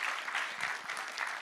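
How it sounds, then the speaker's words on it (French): Conference audience at a tech talk applauding, a steady wash of many hands clapping at moderate level throughout, with no voices on top. "et là, et les applaudissements"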